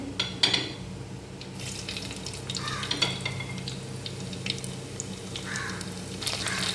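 Sliced ginger frying in a little coconut oil in a pan gives a steady, close sizzle, with scattered sharp crackles and a few light scraping knocks throughout.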